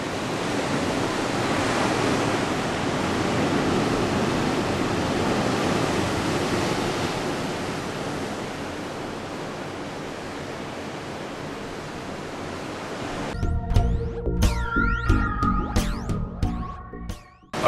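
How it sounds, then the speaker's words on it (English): Ocean surf from a hotel balcony, a broad continuous rushing wash of waves, then it stops abruptly and is replaced by unrelated tonal sounds near the end. "The ocean's right there, man."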